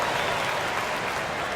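Crowd applause from an NBA 2K25 basketball game, a dense even wash of clapping and arena noise that holds steady through the short moment with no voices.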